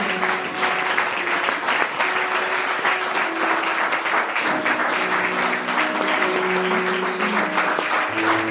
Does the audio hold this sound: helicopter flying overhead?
no